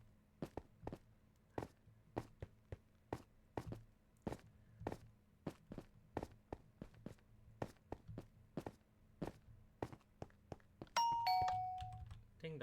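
Steady, evenly spaced footsteps thud for several seconds, then a bright two-tone doorbell chime rings once near the end.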